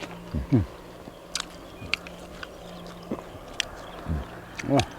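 Crunchy bites of crispy deep-fried quail, eaten whole with their eggs and chili dip, come through as a few short crunching bursts spread across the moment. Faint background noise runs beneath them.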